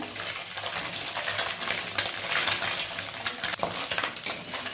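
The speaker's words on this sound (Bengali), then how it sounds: "এবার মাছগুলো অল্প অল্প করে ভাজতে হবে।" Small kachki fish frying in oil, a steady close hiss and crackle of bubbling oil with occasional stirring scrapes and no talk.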